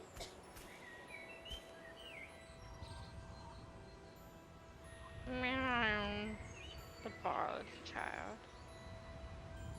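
A cat meows once, loud and close, in the video game Hogwarts Legacy, a rising and falling tonal call with a second shorter call after it, over soft ambient game background with faint bird-like chirps.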